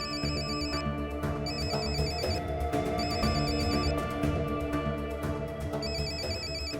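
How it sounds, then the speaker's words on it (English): A mobile phone rings indoors with a repeating electronic ringtone melody, steady and moderately loud, looping several times with no talking. "your phone is ringing."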